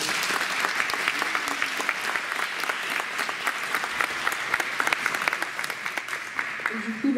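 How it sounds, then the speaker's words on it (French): Audience applause fills a gymnasium, dense and sustained clapping from a sizeable crowd that stays loud and steady throughout without pause. "Je pense qu'on peut de nouveau les applaudir."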